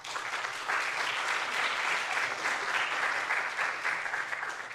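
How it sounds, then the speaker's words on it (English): A sustained round of applause for volunteers at the Lahore Literary Festival in New York, 2019: many hands clapping evenly for several seconds, filling the room at moderate loudness. "So really a big round of applause for all of you."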